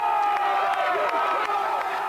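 Spectators line Heartbreak Hill at the Boston Marathon, a loud, dense crowd roar with whoops and shouts of encouragement rising out of a steady wash of cheering.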